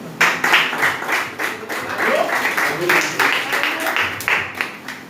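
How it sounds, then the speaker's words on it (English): An audience at an intern students' presentation at a farm consulting company claps for the next presenter, a scattered, uneven patter of hands in a room, with voices talking over it. "Please clap for him now."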